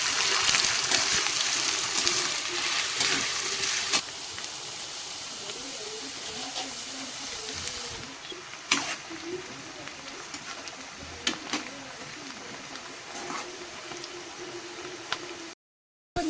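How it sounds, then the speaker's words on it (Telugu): Onions deep-fry in hot oil for dum biryani, giving a continuous bubbling, hissing sizzle up close. It is loudest at the start, then settles and softens, with occasional clicks and light stirring and no talk. "ఆనియన్స్ ఫ్రై చేసుకున్నాం."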